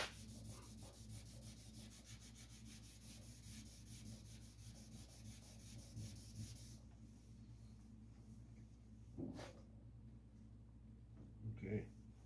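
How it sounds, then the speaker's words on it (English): Body filler putty is hand-sanded on a 1951 Chevy hood with fast, rhythmic rubbing strokes for several seconds. The rubbing then gives way to a few scattered scuffs, with some brief low talk nearby. "You almost want to sand all the putty right off."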